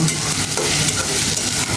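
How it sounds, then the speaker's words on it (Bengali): Onions frying in oil with bay leaf and whole garam masala, stirred in a pan, giving a loud, close, steady sizzle with scraping strokes throughout. "এবার আমি আরেকটু ভালোভাবে নেড়ে চেড়ে নেব।"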